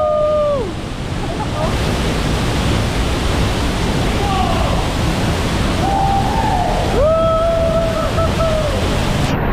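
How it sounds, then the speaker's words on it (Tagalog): Pagsanjan Falls roars as a dense, steady wash of falling water heard up close, with voices shouting and whooping over the constant rush. "Pagsanhan Falls!"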